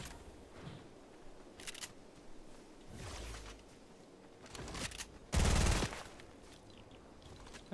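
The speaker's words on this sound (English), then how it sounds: "He was frantically shooting." Scattered bursts of gunfire in the Fortnite video game, several short rattling volleys and one louder, longer blast near the end, fairly faint overall with no talk.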